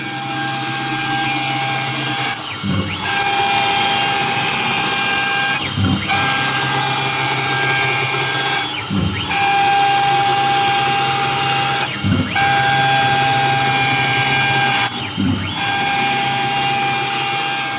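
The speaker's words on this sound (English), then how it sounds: "I don't know if you've ever seen the MR-1 machining steel at 200 inches a minute, but this is what it looks like." A Langmuir Systems MR-1 CNC mill, modified for speed, facing steel at 200 inches per minute with coolant running, a loud steady high-pitched cutting whine broken by brief dips about every three seconds as the tool changes passes.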